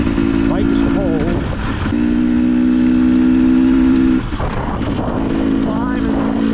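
Motorcycle engine droning steadily while riding uphill on a mountain road near Jackson, Wyoming, with a cold bike; a loud continuous hum fills the clip, briefly dipping twice as if shifting, with wind noise throughout.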